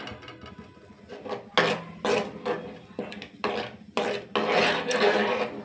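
Urad dal dish with tamarind juice being stirred and scraped in a pan, rough scraping strokes in irregular bursts close up, each stroke loud then fading, with no talk.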